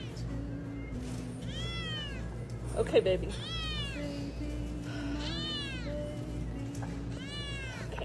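A severely malnourished, injured kitten meows repeatedly in drawn-out, pleading cries, close and clear, with someone speaking softly between the calls and a steady background hum.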